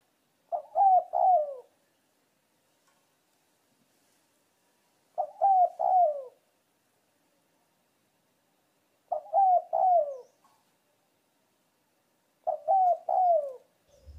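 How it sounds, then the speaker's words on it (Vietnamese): A spotted dove coos in four evenly spaced phrases, each a short run of soft, mellow three-note calls. The bird sounds fairly close, with silence between the phrases. "rồi mình sẽ đưa cái tiếng chim vào anh em nghe"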